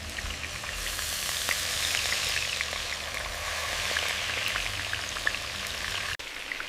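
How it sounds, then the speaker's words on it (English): Marinated beef sizzling as it is stir-fried on high heat after garlic, a steady, fairly loud crackling hiss with dense spitting pops running throughout, no voices. "Listen to that sizzle."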